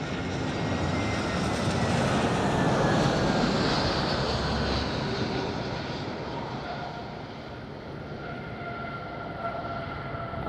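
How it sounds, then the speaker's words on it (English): An EasyJet airliner landing at Madeira Airport: a loud, steady roar of jet engines held for the whole stretch, close and broad, easing slightly toward the end with no voices. "That was a nice landing from EasyJet."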